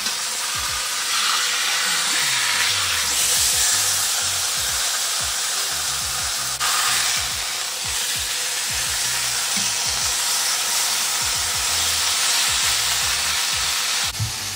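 Meat searing in a frying pan alongside onions, potatoes and carrots, a loud steady sizzle and hiss with occasional pops and scraping stirs, continuous with no talk.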